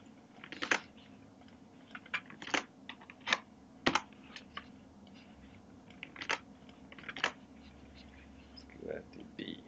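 Quick bursts of keystrokes on a computer keyboard, close and fairly quiet, coming in short uneven clusters with pauses between them and no talking.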